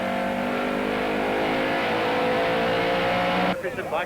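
Loud race car engine at Killarney during a 1994 Wesbank Modifieds race, a steady high-revving drone that holds strong for about three and a half seconds, then cuts off abruptly into quieter fluttering noise.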